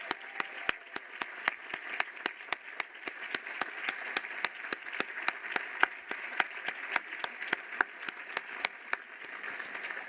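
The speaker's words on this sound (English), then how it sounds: "they deserve a round of applause as well" Applause from a group of people, with many sharp claps in a lively rhythm continuing steadily throughout.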